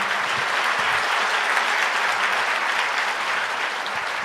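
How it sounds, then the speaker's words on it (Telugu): Audience applause at a church sermon, a thick, even wash of many hands clapping together at close range, steady throughout with no speech. "చప్పట్లు కొట్టారా?"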